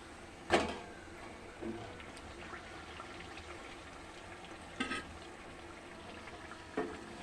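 Nimki snacks frying in oil, a low steady sizzle with three sharper stirring or scraping bursts spaced a few seconds apart, quiet overall.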